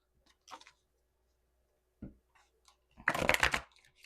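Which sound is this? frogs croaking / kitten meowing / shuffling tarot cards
shuffling tarot cards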